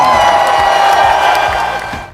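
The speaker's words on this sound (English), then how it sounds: "Let's give him a big Newton. Round of applause!" A school celebration assembly erupts for a pupil, with loud, close applause mixed with cheering and whooping from many children, sustained and then easing off at the end.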